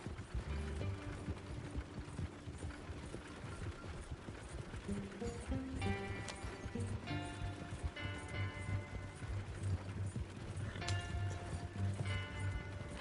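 Horse hooves clop steadily while riding in Red Dead Redemption II, a rhythmic galloping patter under game music and ambient sound, with occasional tonal chimes and mechanical clicks layered on top.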